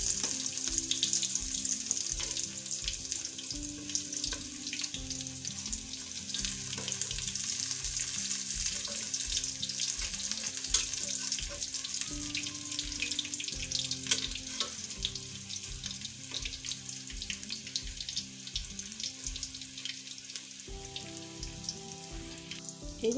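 Vegetable pakoras deep-frying in a wok of hot oil, a steady, bright sizzle and crackle that runs continuously at close range, with occasional spoon or utensil knocks against the metal.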